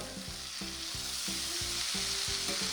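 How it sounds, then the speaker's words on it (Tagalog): Frozen green peas, carrots and sweet corn fry with tofu in a pan, giving a loud, constant sizzle. Rhythmic scraping strokes come roughly every half second as the mix is tossed. "ilagay na natin dito yung ating mga frozen vegetables"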